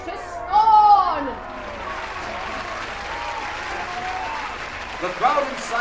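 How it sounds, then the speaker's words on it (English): A crowd cheering and applauding at a rowdy indoor gathering, steady clapping and crowd noise throughout, with loud shouted voices over it near the start and again at the end. "The crowd inside goes wild as the crowd outside goes wild."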